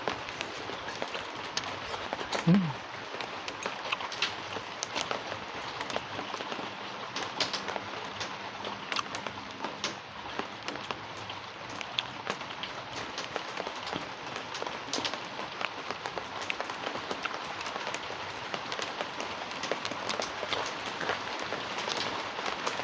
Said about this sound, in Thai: ฝนตกใช่จังไงเนาะ